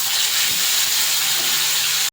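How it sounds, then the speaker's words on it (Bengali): Bata fish frying in hot oil in a wok, giving a steady, loud hiss and sizzle that fills the whole stretch, with a faint low hum beneath and no voices, cutting off abruptly at the end. "মাছগুলো ভেজে নেব।"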